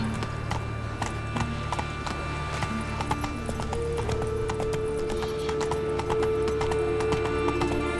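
Roach the horse from The Witcher 3 gallops in a steady, close clip-clop hoofbeat rhythm with a brief whinny, over continuous game music and ambience.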